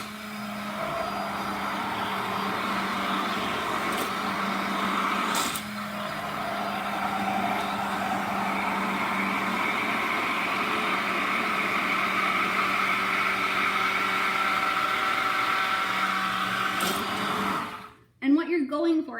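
Stick blender whirring steadily through soap batter, a loud continuous motor drone that cuts off near the end, followed by a brief clatter.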